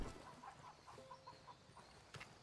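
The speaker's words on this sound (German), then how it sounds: "guck mal, Hühner" Chickens in the video game Ghost Recon Wildlands give a string of soft, quick clucks, faint and irregular over quiet game ambience.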